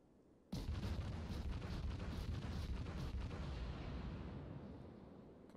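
Naval shells firing and landing in a battleship video game: a sudden loud blast followed by a sustained deep rumbling roar that slowly fades over several seconds.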